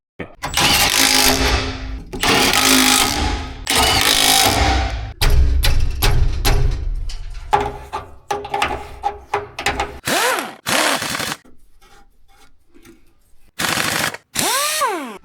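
Welding on a hot rod's hydraulic oil tank produces loud bursts of harsh crackling, each lasting a couple of seconds, followed by shorter intermittent sputters and other workshop clatter.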